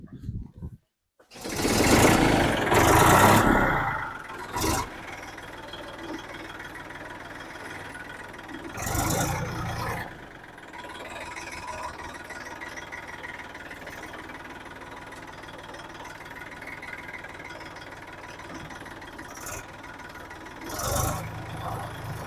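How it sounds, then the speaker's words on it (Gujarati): A tractor engine runs steadily and loudly at close range, with a rake attached, with a few louder surges early on and later. "તો હાલો પેલા ટ્રેક્ટર ચાલુ કરે અને રાપ જોડેલી"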